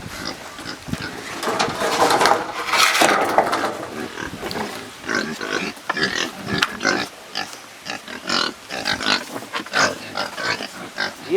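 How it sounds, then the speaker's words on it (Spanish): Several farm pigs, a litter born together, grunt and snort close by in frequent irregular bursts, louder at first and then continuing in choppy clusters. "Son los otros puercos, mira."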